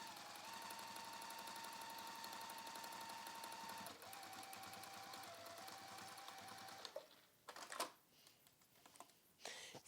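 Sewing machine stitching down both sides of a fully lined fabric bound edge, running steadily and evenly for about seven seconds before breaking into short bursts with brief pauses.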